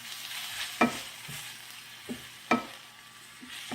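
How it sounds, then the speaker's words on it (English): Spinach sautéing in a hot pan gives a soft, steady sizzle, punctuated by a few sharper stirring scrapes and clatters at irregular intervals, fairly quiet with no voices. "And your spinach is done. And there's your sauteed spinach."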